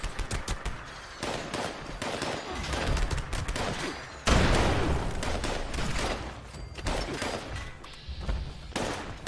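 A Gauss shotgun in Fallout 76 fires in repeated heavy blasts, close and loud, with a big booming discharge midway and rapid bursts of shots before and after.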